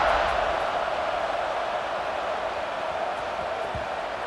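Stadium crowd roaring steadily at kickoff in an NCAA college football video game, a dense, continuous wash of cheering that holds at a loud, even level throughout.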